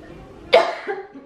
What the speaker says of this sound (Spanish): es un problema que tengo tos